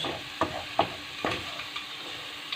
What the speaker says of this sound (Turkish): bir yemek kaşığı un ilave edip karıştırıyoruz, kavuruyoruz